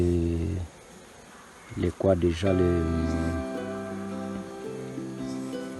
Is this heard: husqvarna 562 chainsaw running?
no